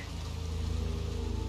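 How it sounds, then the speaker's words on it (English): Steady rain in Little Nightmares 2 hisses evenly and close, a dense continuous patter with no other sounds in the brief stretch. "It's raining, but it's not supposed to rain, you know."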